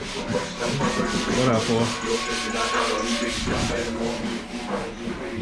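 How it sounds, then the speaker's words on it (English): Hand sanding of Bondo body filler on a damaged car fender gives a rhythmic, steady scratchy rubbing, close and moderately loud, with a brief voice heard at the start. "in the process of sanding down the Bondo"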